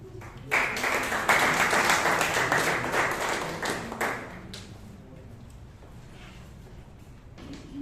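Applause from the audience at a Bangalore Toastmasters meeting, a sudden full round of many hands clapping that swells, holds for several seconds, then tapers to a few scattered claps and quiet room noise.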